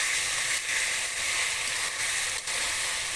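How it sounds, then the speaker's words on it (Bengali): Chicken fried rice, Bangladeshi Chinese-restaurant style, with fried chicken and half-boiled rice stirred together in a hot pan: a steady, close hissing sizzle with a few brief dips as the food is turned. No one talks. "যে চিকেনটা ভেজে রেখেছিলাম ওটাও আমি দিয়ে দিচ্ছি আমি নেড়ে নেব এখন সব কিছু একসঙ্গে"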